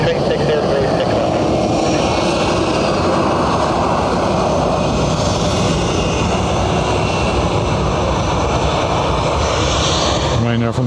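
A Ryanair airliner at Dublin Airport produces a steady, loud jet roar that persists throughout, with faint radio chatter and voices mixed beneath the engine noise.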